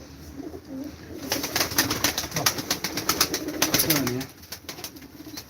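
Soft, low cooing from pigeons kept in a loft, with a burst of rapid rhythmic fluttering in the middle and a voice speaking briefly.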